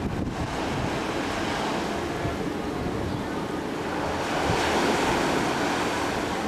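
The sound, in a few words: ocean waves at a house in Hawaii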